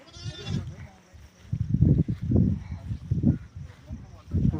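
Sheep bleat outdoors in a series of wavering, throaty calls, several in close succession and fairly near, and a voice can be heard among them.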